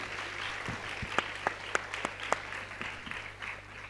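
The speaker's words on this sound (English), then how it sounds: "Let's have a huge round of applause for all our panelists" An audience at a panel event applauds the panelists, with sparse, fairly close individual claps over a soft murmur of crowd noise.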